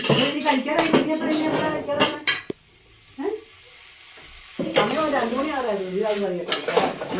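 Food is stirred well in a cooking pot, with scraping and light clattering heard close by. A person talks over most of it, and there is a brief quieter gap in the middle.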